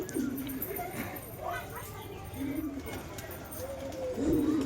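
Wild rock pigeons coo at a loft at evening, a few low, rounded coos repeating close by over a steady background murmur.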